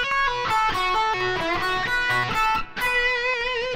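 Distorted electric guitar lick played with double picking: quick, dense runs of notes flow almost continuously with one short break near the end, loud and upfront, instrument alone.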